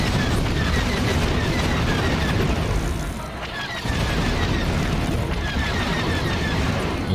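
A Lego Star Wars: The Complete Saga explosion, a loud, broad rumbling blast that sustains, dips briefly, then swells back into a steady crackling roar.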